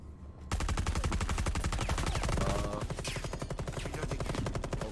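Rapid automatic gunfire from a shooter video game, a dense, loud, continuous burst of fast repeating shots that runs the whole stretch after a brief quieter lead-in, with overlapping fire layered on top.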